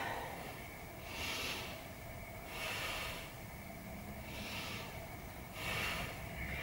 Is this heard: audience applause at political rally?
no